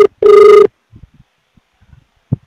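An outgoing call's ringback tone, a single loud electronic ring burst lasting about half a second and then followed by quiet line noise and faint clicks.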